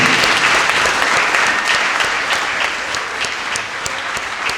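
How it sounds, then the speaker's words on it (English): A live Q&A evening audience gives a big, dense round of applause for a football guest, loud and sustained, easing slightly toward the end. "let's give a big round of applause on the far end. Kris O'Leary"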